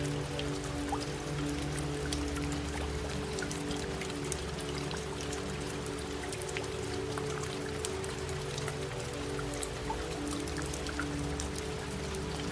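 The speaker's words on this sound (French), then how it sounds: "Et alors que la pluie continue" Steady rain falls without pause, a dense even patter of drops on surfaces spreading into a constant wash of sound, moderately loud and unchanging throughout with no voices.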